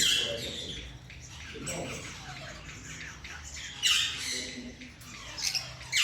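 Red lory parrots squawk loudly and harshly at a pet shop in Islamabad, close by, with repeated shrill calls in bursts over a steady background din.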